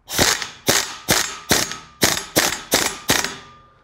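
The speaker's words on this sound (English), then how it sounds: "So instead of the impact gun, we're going to use this air ratchet." An air ratchet tightens flex disc bolts in eight quick, evenly spaced bursts of loud, close metallic ratcheting, each cutting off sharply. No voices are heard.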